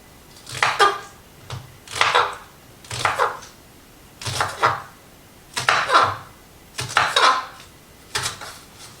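A knife cuts scallions on a cutting board, separating the white parts from the greens, in about eight clustered, irregular bursts of crisp slicing and board knocks close by, with no talk.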